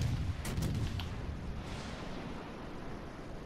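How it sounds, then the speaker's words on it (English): Heavy naval gunfire in World of Warships Legends, a British destroyer HMS Wakeful coming under battleship fire: a few rumbling booms early on, then a low, continuous roar of battle noise with no talk. "I'm going to come under fire from battleships as well"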